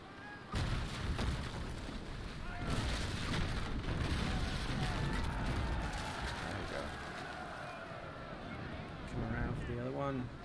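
Warship cannons firing in the Naval Action video game, one heavy broadside of booming blasts that rolls on as a long rumbling roar under a player's commentary.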